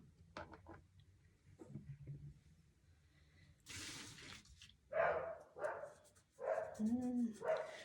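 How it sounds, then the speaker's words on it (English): A dog barks an alert indoors in several sharp, fairly loud bursts during the second half, following a quieter stretch with faint background sounds and a voice. "My dog is alerting us."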